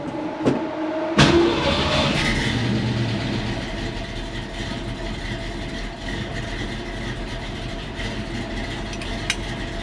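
A 1966 Mustang's engine rumbles steadily while driving, with a loud start as it gets going, followed by continuous drone and road noise from inside the car.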